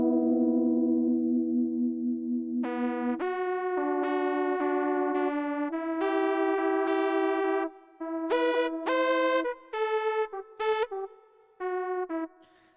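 Boss GM-800 guitar synth played through an adjusted trem chorus effect, a run of sustained and stepping notes that turn into short choppy bursts near the end, with no talk.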